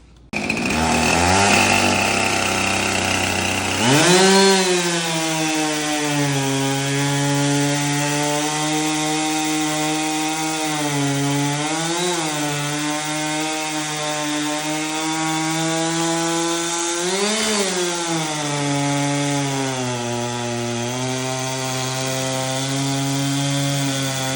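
A Husqvarna chainsaw revs up loud and close, then bogs into a steady, strained drone while cutting through a very large wooden post, with pitch dips where the chain loads up, running alone without talk.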